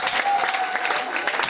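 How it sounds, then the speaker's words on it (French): A birthday celebration crowd applauding and cheering, steady dense clapping with a few raised voices, close and loud throughout the short moment. "Est-ce qu'on peut encore acclamer?"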